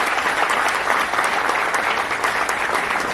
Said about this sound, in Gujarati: જોરદાર તાળી સાથે વધાવી લઈએ.